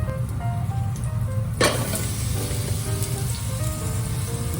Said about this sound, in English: You know it's hot enough because you can hear that sizzle.